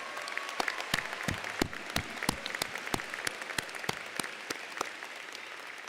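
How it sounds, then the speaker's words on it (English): Audience applause for the faculty at a Daytona State College commencement ceremony: sustained clapping from a seated crowd with sharp individual claps standing out close by, steady through the whole stretch, with no talk over it. "Graduates, let's give our faculty a well-deserved round of applause."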